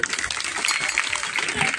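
Audience in a devotional kirtan gathering applauding for Lord Rama, a dense, steady wash of clapping across the whole stretch with no pauses.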